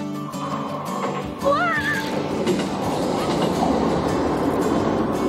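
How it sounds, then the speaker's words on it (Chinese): JR Hokkaido Nemuro Main Line train crossing a bridge over a river in Kushiro, a steady rumble with rhythmic rail clatter heard at a distance in the open outdoors, with a brief squeal near the start. "横越别寒边牛溪园的是 JR 北海道的根室本线花笑线"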